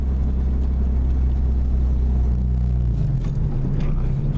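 A manual stick-shift car cruises in fourth gear at about 25 to 30 mph, its engine giving a steady, loud, low rumble from inside the cabin that holds throughout, with the pitch shifting slightly partway through.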